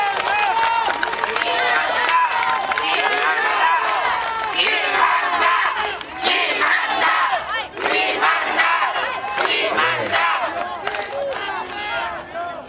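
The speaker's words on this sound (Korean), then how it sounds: "박수 한번 주십시오" A political rally crowd in Gangnam cheers and claps for a party candidate, loud roaring shouts and whoops over ragged applause, swelling and dipping in waves with voices calling out across the hall.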